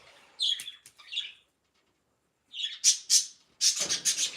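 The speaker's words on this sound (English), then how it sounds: "No, I'm not showing the birds. They do not like the camera." Several sharp squawks and chirps from pet birds indoors in two bursts separated by a silent pause, fairly close and loud, with no talking.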